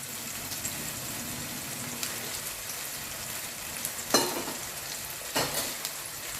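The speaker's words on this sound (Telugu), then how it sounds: "ఆనియన్స్ చక్కగా ఫ్రై అవ్వాలండి" Onions frying in a pan for a mushroom cashew curry, a steady broadband sizzle throughout with a couple of sharper crackling bursts and stirring scrapes near the end, no voices.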